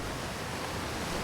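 Water in a mystery indie video game, a steady wash of broadband rushing noise like surf or flowing water, continuous and fairly loud for a brief moment with no voices.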